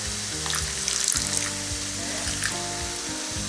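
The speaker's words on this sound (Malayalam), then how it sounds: "അപ്പോൾ അല്പം വെള്ളം ഒഴിച്ചു കൊടുക്കണം." Water splashes into fish masala in a pan over a steady sizzle of frying, a brief close pour blending into the hiss of cooking.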